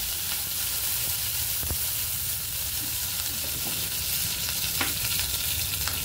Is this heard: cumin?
yes